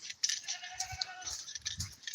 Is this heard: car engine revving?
no